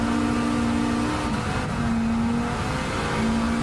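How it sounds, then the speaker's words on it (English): A turbocharged car engine in Gran Turismo 7 revs hard and continuously with a loud whine of the turbo on top, pitch rising and falling as it accelerates. "Car really doesn't sound bad though. Just the turbo is so loud."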